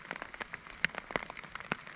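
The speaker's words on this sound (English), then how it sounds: "As you can probably hear, we got a little bit of rain this morning." Light rain pattering steadily on a spring morning in the Pennsylvania woods, with scattered sharper drops tapping close by at irregular intervals.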